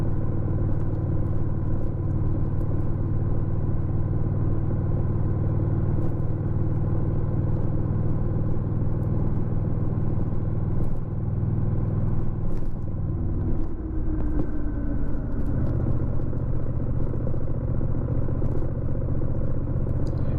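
Motorcycle engine droning steadily in rain riding mode on the road, a close, constant rumble for about twenty seconds, shifting in pitch partway through as revs change.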